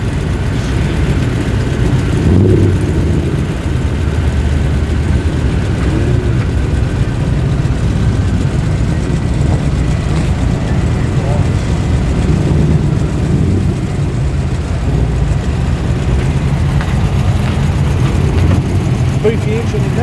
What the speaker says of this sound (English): Beefy engine in that.